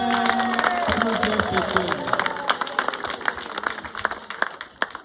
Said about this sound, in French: Applaudissons très fort.